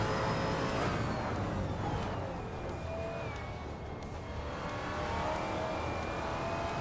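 Racing cars in a video game, including a KTM, a Mustang and a Maserati, roar past with engines revving and pitch sliding downward as they pass, loud and continuous over a tight track.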